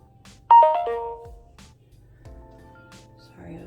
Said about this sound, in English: I was getting some phone notifications there